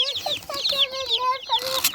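Baby broiler chicks packed into a brooder alongside young turkeys give off a steady stream of high, overlapping peeps and chirps, close and busy throughout.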